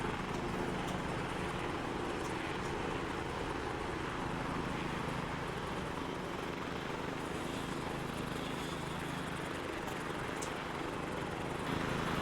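Steady, droning rotor and engine noise of a helicopter in flight in the video game Arma 3, continuous and fairly loud with no break for the whole stretch.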